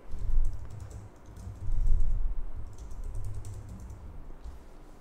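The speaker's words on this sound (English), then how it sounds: "Now type a name for your project." Someone types on a computer keyboard in close, clear bursts of rapid key clicks, separated by brief pauses, with no voices over it.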